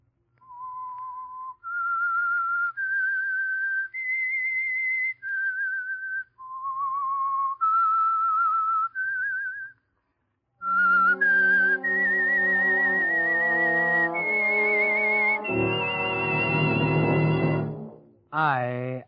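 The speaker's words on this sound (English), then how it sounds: "That whistle is your signal for the Signal Oil Program" A lone whistler carries the eerie theme melody of The Whistler, an old-time radio mystery show, in clear sustained notes. After a short pause, an orchestra joins and swells beneath the whistled tune to a loud finish.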